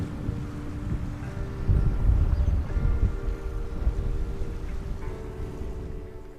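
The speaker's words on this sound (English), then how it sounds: "The wind's really picked up over here." Strong wind buffets the microphone beside the Swan River near Fremantle, a steady low roar with gusts swelling around the middle, alongside faint water and distant boat engine drone.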